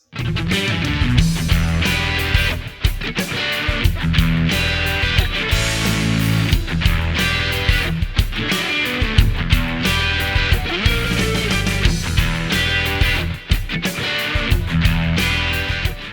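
Crunchy, mildly distorted electric guitar playing chords and riffs with rhythmic chugs and accents, loud and close, no voices.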